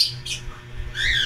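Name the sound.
bird squawking while being held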